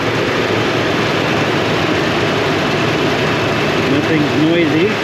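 A 2004 Toyota Tundra engine idling after a serpentine belt repair, a loud, steady mechanical drone with a fan running, and a voice speaking over it near the end.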